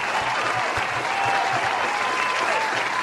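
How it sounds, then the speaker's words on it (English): A studio audience gives a round of applause on a talk show, a dense, steady clapping that fills the whole moment and cuts off abruptly at the end. "Let me give you a round of applause, man."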